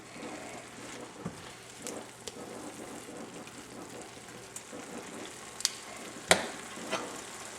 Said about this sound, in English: we're going to add our peppers back in. Give that a good stir.